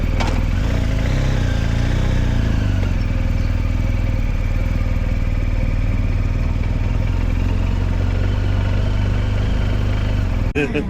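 A six-year-old BMW R1200 motorcycle idles steadily in the morning, its low engine rumble and mechanical clatter holding constant and loud throughout before cutting off abruptly at the very end.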